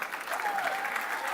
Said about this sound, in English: Kindly clap louder.